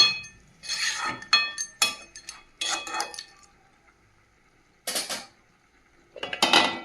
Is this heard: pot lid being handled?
yes